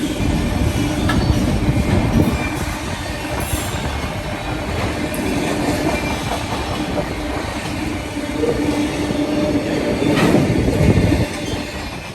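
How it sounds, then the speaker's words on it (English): A mainline freight train with a caboose on the end rumbles steadily past nearby, wheels clattering and occasionally squealing over a continuous heavy roar. "A rare caboose on the end of a mainline freight."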